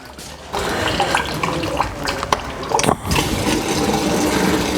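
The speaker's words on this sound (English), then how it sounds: "more coolant's gonna come out because now it's got airflow" Coolant pours out of a 2013 Subaru Forester radiator once the cap is removed, a steady splashing, trickling flow close by with brief gurgling surges, no talking.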